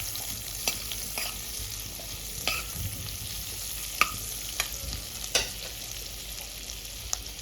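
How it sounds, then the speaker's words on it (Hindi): Ginger mixture frying in a pan, a continuous steady sizzle broken by several sharp ladle taps and scrapes as it is stirred, close up and without talking. "अदरक, अच्छे से इसे हमें मिक्स कर लेना है"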